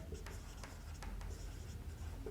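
Steady pen writing on paper during a class 10 circles geometry lesson, a soft continuous scratching with small irregular strokes, quiet and close, with no speech over it.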